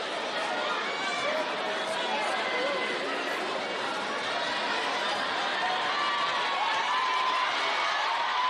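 A crowd at a FIBA U18 African women's basketball semi-final between Egypt and Madagascar roars and chatters in a sustained wash of excited noise, with shouts rising over the dense arena din.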